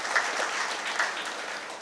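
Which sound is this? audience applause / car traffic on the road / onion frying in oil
audience applause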